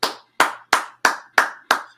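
Six sharp hand claps from a clapping sound effect, evenly spaced about a third of a second apart, crisp and close with silence between each.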